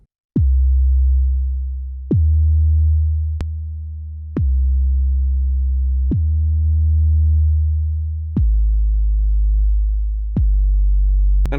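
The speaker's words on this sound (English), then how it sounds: "Listen to how the glue, the compressor, in this case, brings up the attack of the 808" 808 bass hits played through a tape-emulator compressor and without it, a run of booming sub notes with sharp attacks and long sustained tails, each repeating about every two seconds, loud and alone.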